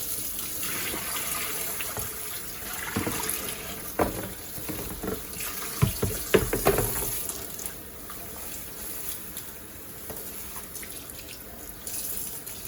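A sink faucet runs while a blonde wig is rinsed under hot water, a steady splashing gush with sporadic louder sloshes and knocks, no talk.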